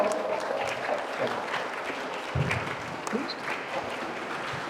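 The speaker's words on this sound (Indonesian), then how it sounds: "Dan tepuk tangan yang meriah" Lively applause at a campus event for Pak Okan, a moderately distant, steady patter of many hands clapping with crowd murmur and a few low bumps mixed in.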